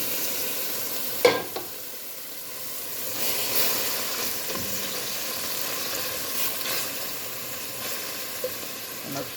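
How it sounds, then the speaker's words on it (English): Vegetables and pepper frying in a pan ahead of the cabbage, a steady soft sizzle running throughout with a few clinks of stirring, faint and without talk. "I'm gonna fry this up a little bit and then I'm gonna add the cabbage."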